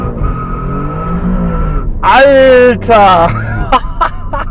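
A 2020 Alfa Romeo Giulia Quadrifoglio with 510 PS builds a rising engine drone held on the brake for a launch-control start, then surges loudly as someone shouts excitedly over it.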